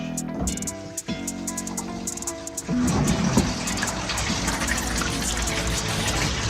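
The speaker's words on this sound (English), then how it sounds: "We got to wash our hands, okay?" Tap water runs at a kitchen sink for hand washing, a steady broadband rush that swells louder about halfway through and continues to the end.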